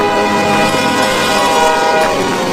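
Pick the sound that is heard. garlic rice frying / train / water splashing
train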